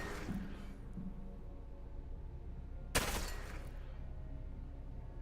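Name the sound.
gunshots in a video game (MiSide)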